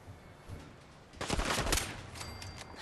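Low-tech turrets firing in Fallout 4: a short, dense burst of rapid shots rises out of quiet background noise, close and fairly loud, then trails off into faint rattling.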